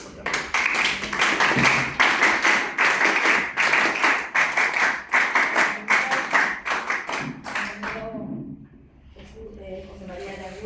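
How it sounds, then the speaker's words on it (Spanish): A crowd at a tribute ceremony in San Borja claps in a brisk, rhythmic burst of applause for about eight seconds. The clapping then dies away and a voice begins speaking. "al cual pido un fuerte aplauso"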